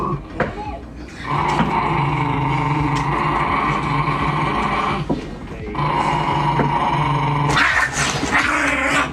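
A dog growls in long, loud, sustained rumbles broken by brief pauses, close by, with occasional sharper snarls and some human voices in the background.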